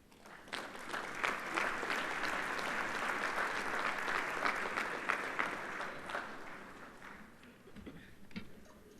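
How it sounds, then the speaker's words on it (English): A sustained burst of audience applause at a high school academic awards ceremony, dense and steady clapping from a large crowd, gradually thinning out toward the end. "If you could please hold your applause until everybody has received their awards."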